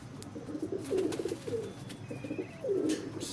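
Pigeons kept by a hobbyist coo in a low, throaty series of repeated calls at close range, with a faint chirp and background noise around them.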